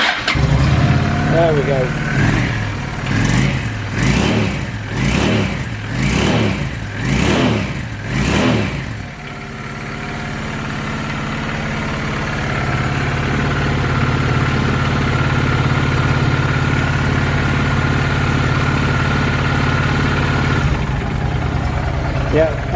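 A 2007 Honda VT750 Shadow motorcycle engine cranks over several times in a rhythmic stutter, catches with choke pulled, revs up and settles into a steady, close, loud idle; someone speaks briefly.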